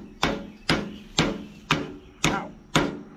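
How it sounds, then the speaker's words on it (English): Hammer blows on the steering box of an Allis-Chalmers C parts tractor: six sharp metallic strikes at an even, steady rhythm, close and loud, with no talking. "Oh, I need a hammer."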